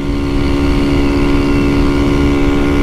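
Honda Fan 150 Mix motorcycle engine held hard against its rev limiter, a loud, steady, buzzing drone close by with no letup and no talking.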